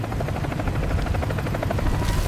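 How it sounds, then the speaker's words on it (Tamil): A helicopter's rotor thumps steadily and loudly, close overhead and continuous, with no voices, cutting off abruptly at the end. "ஹெலிகாப்டர் உங்கள் மீது வருகிறது"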